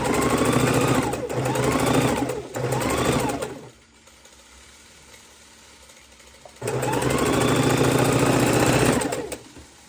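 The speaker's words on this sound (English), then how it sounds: "now we're sewing the 3rd row onto our 9 patch" Close sewing machine stitching quilt rows together, running in steady whirring bursts that stop for a few seconds of near quiet before the motor starts again.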